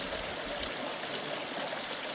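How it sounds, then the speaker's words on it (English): Hot water flows steadily out of rock at a hot spring, a continuous close rushing and trickling stream with no pauses and no voices. "This part's quite hot where the water's coming out of the rock there."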